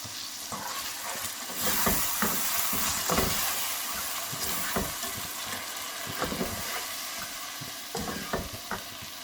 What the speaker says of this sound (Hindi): अब इसमें मैंने जो पेरी पेरी सॉस थी आधा कप वो डाल देंगे और इसको अच्छा सा मिक्स कर लेंगे